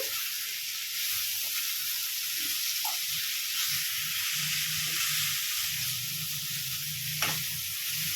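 Dry fish curry with tamarind leaves fries in a pan while being stirred gently, giving a continuous loud hissing sizzle with occasional soft scrapes and bubbling pops, near and without talk.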